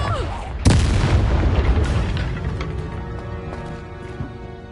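A Confringo blasting curse explodes in Hogwarts Legacy, a sudden loud boom with a rumbling, crackling tail that fades over several seconds. A few smaller thumps follow.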